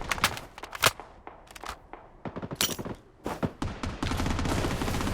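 Gunfire in the shooter video game Blood Strike, with loud bursts of automatic fire and scattered single shots that build into a dense, continuous volley near the end.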